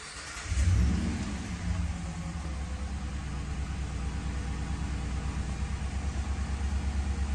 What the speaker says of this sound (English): let's go ahead and start this vehicle up for y'all